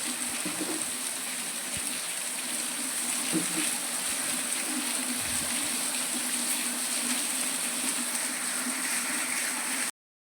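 Rainwater flows through a market street during a downpour, a steady rushing wash with a low gurgle. Light rain patter and a few faint bumps sit underneath, and it stops abruptly at the end.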